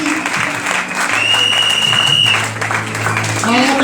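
Church congregation at a night worship service in Cocody applauding and cheering loudly, a dense continuous wash of clapping with voices and a sustained tone mixed in.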